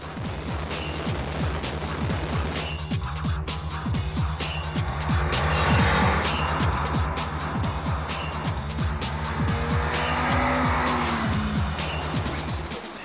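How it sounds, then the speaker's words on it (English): A Suzuki Swift driving along rural roads, its engine a steady droning hum with a regular low pulsing beat, close and constant throughout, with faint wind and road noise above and no voices. "The Suzuki looks perfectly at home on rural roads and eases around curves."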